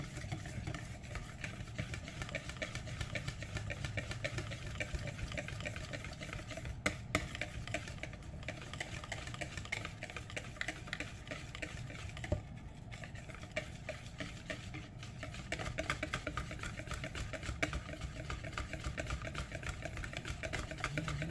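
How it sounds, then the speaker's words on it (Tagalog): Hot cake batter stirred in a bowl, a steady continuous scraping and tapping that runs throughout at moderate, even loudness, with no talk over it. "haluin lang natin"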